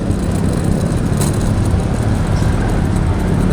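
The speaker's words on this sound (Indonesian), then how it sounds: "Nah ini ada truk, wah itu ada truk teman-teman, truk pengangkut BBM ya." A fuel tanker truck passes on a morning road in Semarang. It makes a loud, continuous rumble and roar close by, mixed with broad traffic noise throughout.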